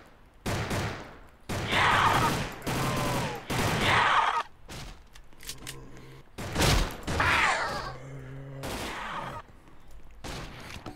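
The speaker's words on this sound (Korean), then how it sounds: "총알 아끼시게나." Gunfire in a Roblox Call of Duty zombies game, with loud bursts of rapid shots in several clusters over about eleven seconds, broken by brief pauses and quieter game sounds.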